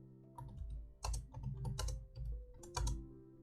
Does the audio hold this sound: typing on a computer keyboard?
yes